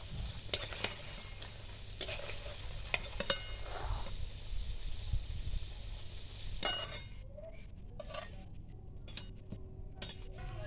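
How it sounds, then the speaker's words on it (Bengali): A breakfast snack frying in a pan on low heat, a steady soft sizzle broken by close clinks and scrapes of a utensil against the pan, with the sizzle thinning after a few seconds. "বাকিগুলো আমি একইভাবে ভেজে নেব।"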